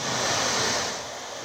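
An ocean drum is tilted to imitate rolling ocean waves, giving a soft, sustained rushing wash that swells and then eases over about a second and a half, with no talking.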